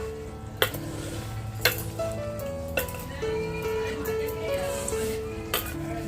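Onion and coriander being stirred into a pan, with occasional spoon knocks against the metal about once a second over faint sizzling and soft background music.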